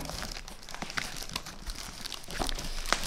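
Plastic and paper packaging crinkles and rustles while an Akko 5108 full-size mechanical keyboard parcel is unboxed, with scattered close crackles and light handling noises and no talking.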